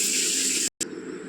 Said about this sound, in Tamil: ஃப்ரெண்ட்ஸ், தண்ணி ஆட் பண்ணியாச்சு.